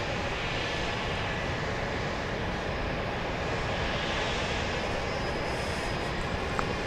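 A Southwest Boeing 737-700 on approach to Dallas Love Field roars steadily and loudly at night, a broad continuous jet engine rumble that holds throughout with no talking.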